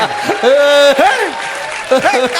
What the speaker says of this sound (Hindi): जरा तालियां कमजोर है